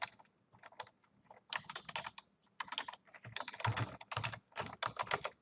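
Someone types on a computer keyboard in quick, uneven bursts of close key clicks, with short pauses between runs. No one talks.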